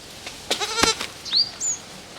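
Goats bleat several times at close range, with two loud wavering calls followed by a shorter, higher cry. The background stays fairly quiet.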